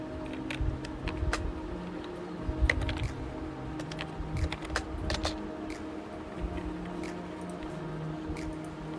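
Irregular keyboard typing, clicks in scattered bursts over a steady background hum, moderately close.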